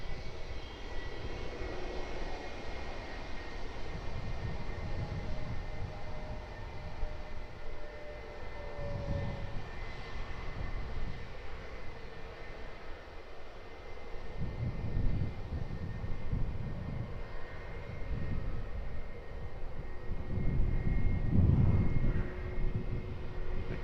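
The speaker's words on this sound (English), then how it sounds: "Lovely noisy engines on this 200 series A321" Jet engines of an EasyJet Airbus A321-200 roar steadily in the early morning as it departs, a continuous loud, rumbling whine that swells slightly toward the end, heard from a distance with no voices.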